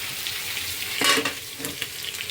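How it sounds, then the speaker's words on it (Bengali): Hilsa fish pieces frying in hot oil in a home kitchen, a steady close sizzle with a louder spitting burst partway through and small crackles after. "আর এইদিকে ইলিশ মাছটা ভেজে তুলে রাখবো।"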